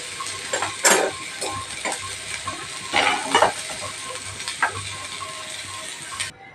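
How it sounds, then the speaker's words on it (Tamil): Ingredients for karamani gravy lightly sauté in a pan, giving a soft sizzle broken by intermittent scraping and stirring clatter from a utensil, close and moderately loud. "கொஞ்சம் லைட்டாக வதங்கினா போதும்"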